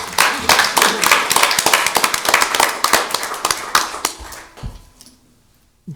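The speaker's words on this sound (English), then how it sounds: "One more round of applause." A county board public meeting audience applauds with dense, steady clapping that tapers off into a few scattered claps and then quiet.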